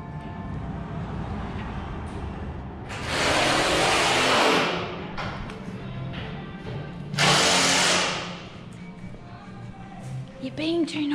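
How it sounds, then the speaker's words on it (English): A power drill driving a screw during pre-season work on a windrower on an Australian farm, two loud broadband bursts of a few seconds each rising over a steady engine-like rumble, with quieter clicks and handling noises between. "You're being too noisy for our baby."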